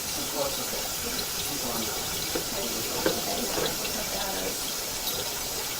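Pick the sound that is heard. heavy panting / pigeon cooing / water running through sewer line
water running through sewer line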